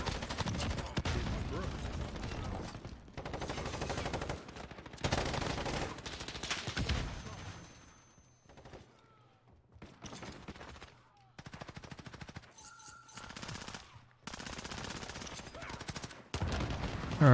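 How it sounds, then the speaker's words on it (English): Bursts of LMG machine gun fire in the video game Modern Warfare, several loud sustained volleys of rapid shots separated by short pauses, with a voice talking in the gaps. "Oh no, I've picked up an LMG."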